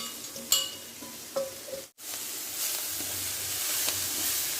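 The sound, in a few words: sautéing onions in a pan for line keerai poriyal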